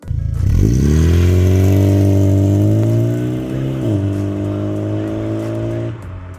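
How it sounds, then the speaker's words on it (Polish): A Volkswagen Passat B3 with a 2E engine and new rear silencer drones loudly and steadily, its pitch rising and easing through a brief dip before cutting off near the end. "tylko oryginalny, nowy, końcowy tłumik jest założony ale dźwięk jest uważam bardzo fajny jak na 2E"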